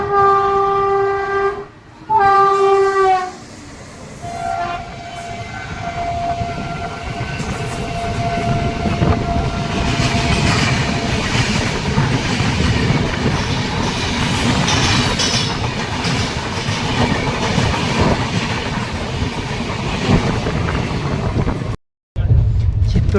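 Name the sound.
WAG9 locomotive train horn honking, passing train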